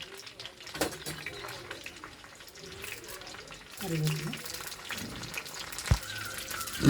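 Mustard seeds splutter in hot oil in a pan while a jackfruit-seed meat curry is started, scattered sharp crackles and sizzling under a person talking.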